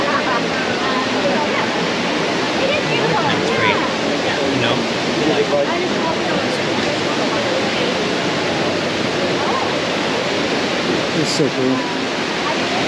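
A waterfall beside a footbridge, a steady broadband rush of falling water that fills the whole clip at an even, close level, with people talking briefly over it.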